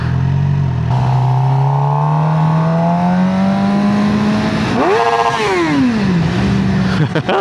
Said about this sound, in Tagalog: Ganda ng motor ng kotse niya.